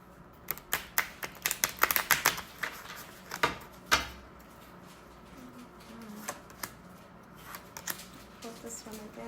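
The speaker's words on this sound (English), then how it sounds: "I'm going to go ahead and pull these cards" Tarot cards from a Hoodoo deck riffle and slap together in a burst of close, crisp shuffling, then a few softer card pulls and flicks follow more sparsely.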